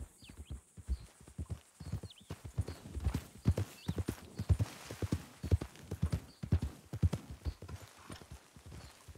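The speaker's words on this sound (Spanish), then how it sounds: "tenemos un caballo justo enfrente. Es un Morgan, creo." Hooves of a Morgan horse clip-clop steadily in the video game Red Dead Redemption II, a brisk, even rhythm of hoof strikes carrying on throughout, close and fairly quiet, with a faint whinny near the start.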